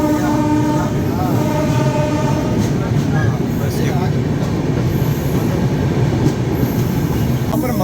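Rajdhani Express train running through Bhusawal Junction, a loud steady rumble of wheels on track with tonal hums and occasional squeal, close and continuous, with a voice speaking over it.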